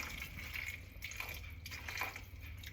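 Water running and splashing steadily into a cooking pot for fusilli pasta, a close, continuous hissing pour with small surges.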